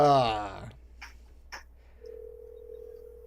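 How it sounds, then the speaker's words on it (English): Telephone dialing to call someone: a few short tone blips follow a voice, then a steady dial or ringback tone holds alone at moderate level. "Now, I'm going to call Shanny right now"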